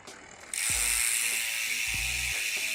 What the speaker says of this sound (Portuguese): Na verdade, quem faz é o freehub, que é uma parte interna do cubo da bike.